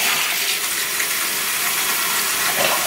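Bathroom tap water runs steadily over a toothbrush at a sink, a constant close hiss and splash with no breaks.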